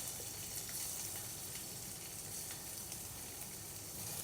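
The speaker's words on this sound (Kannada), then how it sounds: "ಇದಕ್ಕೀಗ ಒಂದೊಂದಾಗಿ ಈ ಪನ್ನೀರ್ನ ಪೀಸ್ನ ಇಡ್ತಾ ಇದ್ದೇನೆ." Pieces of paneer fry in hot oil for a restaurant-style paneer gravy, giving a steady, even sizzle that continues without a break and with no voices.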